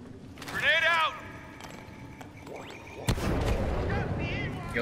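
A grenade blast in a Star Wars shooter game, a sudden loud burst that rolls into sustained rumbling debris noise, preceded by brief voiced game chatter and a rising whistle.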